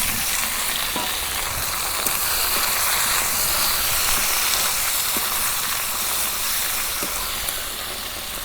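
Onions fry in a pan for a Bangladeshi-style tomato fish curry with kalbaus fish, giving a loud, steady sizzling hiss throughout with a few faint scrapes of stirring.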